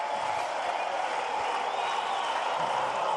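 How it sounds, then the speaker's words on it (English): A tennis crowd at the 2016 US Open quarterfinal between Wawrinka and Del Potro keeps up steady applause and cheering, a dense continuous roar with a voice faintly underneath. "The crowd trying to energize him."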